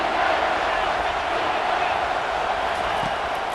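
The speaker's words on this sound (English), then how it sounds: "This crowd knows when to bring it." A stadium crowd roaring on third down in a college football video game, a steady, dense wall of cheering noise that holds at an even level throughout.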